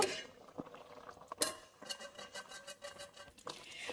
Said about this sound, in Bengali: এবার ঢাকনাটা খুলে দেখে নিব